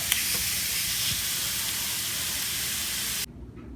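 Crumbled taco meat sizzling loudly in a pan, a dense continuous hiss and crackle that cuts off sharply near the end, with no talking.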